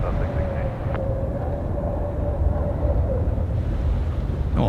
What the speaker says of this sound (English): Oh, a bit of a bounce there, I think, for the inbound Jetstar.